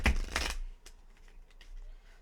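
Tarot cards are shuffled in two quick, close riffles at the start, followed by softer scattered card taps and handling noises.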